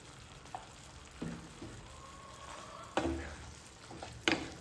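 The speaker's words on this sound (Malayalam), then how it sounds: "കുരുമുളകിൻ്റെ പൊടി ഇട്ടതിന് ശേഷം നല്ല ഇളക്കി കൊടുക്കട്ടോ" Beef roast with pepper powder is stirred in a pan, giving a few soft scrapes and clinks over a quiet, low sizzle, close and faint.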